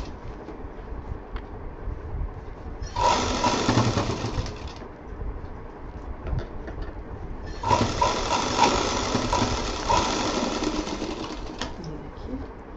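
Sewing machine stitching piping onto a shiny bag, running in two steady bursts of fast mechanical whirring separated by a quieter pause, with low background noise throughout.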